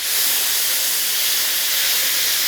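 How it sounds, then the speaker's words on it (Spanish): A paella base of rabbit and snails sautés slowly in warm oil, a dense continuous hiss that stays loud and even throughout, with no voices. "Vamos sofriendo lentamente y ponemos una ñora."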